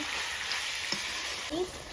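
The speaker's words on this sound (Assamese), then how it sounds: "এয়া ধুনীয়াকৈ ভাজি আছোঁ।" Pork and mustard greens frying in a pan give a steady close sizzle with a couple of light scrapes, and a faint voice sound briefly joins in.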